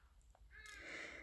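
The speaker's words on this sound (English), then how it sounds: "Apologies for the South African birds making their usual morning noises." Harsh cawing bird calls in the early morning in South Africa, one loud drawn-out caw rising out of quiet room tone, fairly close and alone without talk.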